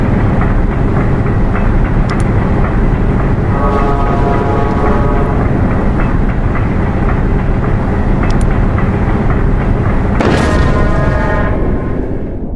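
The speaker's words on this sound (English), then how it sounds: "Did we just hit another train?" Train crash in a video game, a loud continuous rumbling roar of a rail vehicle with grinding tones and a sudden heavy impact burst near the end, dense and close throughout.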